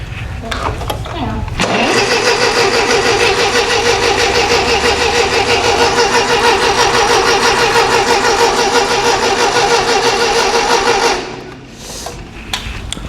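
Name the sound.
Ferguson TEA20 tractor engine starting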